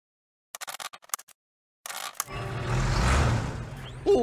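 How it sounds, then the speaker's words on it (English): A mechanical clicking and ratcheting, then a car engine starts and rumbles steadily, growing louder and fuller toward the end. "That's the sound of a car engine."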